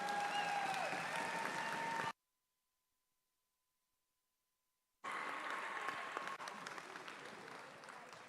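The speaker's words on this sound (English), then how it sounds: "Can we give these students one more round of applause?" A high school signing day audience gives a round of clapping for students, steady applause that cuts out to silence for a few seconds, then resumes and gradually thins.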